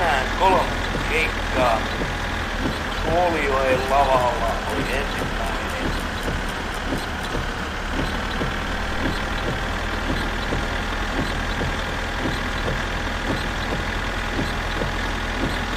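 A tractor engine idles in the My Summer Car video game, a steady low rumble with a faint knocking pulse, running continuously beneath a voice speaking.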